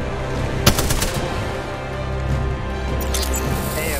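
Rapid automatic gunfire in Apex Legends rattles steadily throughout, a loud continuous burst with a few sharper individual shots standing out.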